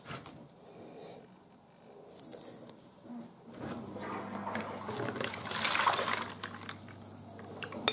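Water is poured off strawberries sitting in a glass jar, turning from a faint trickle to a fuller, steady splashing stream partway through, close by and with no voices.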